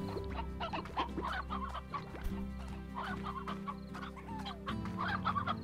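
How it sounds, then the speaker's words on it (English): Chickens clucking in the video game Slime Rancher, a steady chorus of short clucks and bwak calls from several birds at once, close and clear over a low background hum. "Alright, so these are the chickens."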